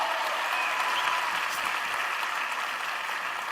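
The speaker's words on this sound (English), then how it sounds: "Let's clap it up for him." A large audience at an entrepreneurship festival in Sharjah claps steadily and evenly, a dense wash of applause holding at the same level for the whole stretch without talk.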